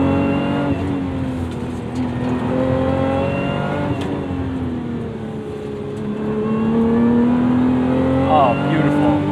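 Car engine revs and settles during a heel-toe double-clutch downshift, a steady drone that dips and then swells louder near the end, under someone talking.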